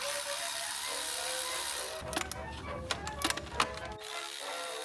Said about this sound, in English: He's just going to undo bolts until the thing he wants comes off.